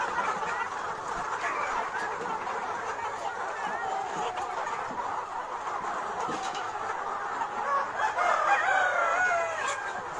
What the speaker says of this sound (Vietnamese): Gà thiến mọi người ơi, đẹp lắm.